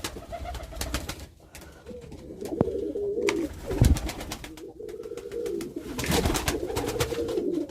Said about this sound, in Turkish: Tüneklerde güvercinlerimiz.